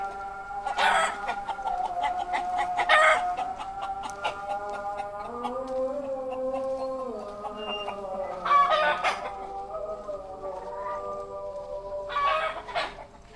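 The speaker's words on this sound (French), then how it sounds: "Je sens que je vais être réveillée par les coqs." Several roosters crow in long drawn-out calls, one after another, with softer clucking from hens in between, moderately close, in Batukaras, Indonesia.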